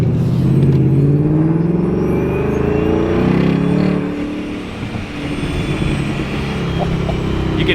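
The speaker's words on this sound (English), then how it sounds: "I do have the whine mod on these centrifugal blowers, so that's why you hear a ton of whine" A supercharged Ford Mustang 5.0 with an ESS centrifugal blower, whine mod and MBRP street exhaust revs and cruises, a rising and falling supercharger whine over a loud engine and exhaust rumble, heard from inside the cabin.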